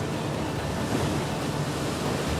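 Rough, stormy sea pounds against the hull of an Ottoman galley while a strong wind roars across the open water, forming a dense and continuous wash of surf and gusts without any voices.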